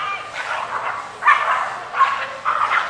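Dogs yipping, whining and barking as they squabble in an indoor dog park at a shopping mall in Indonesia, several close bursts of agitated canine noise.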